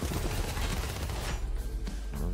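Rapid bursts of gunfire crackle continuously over a dense, busy game soundtrack, loud and sustained throughout.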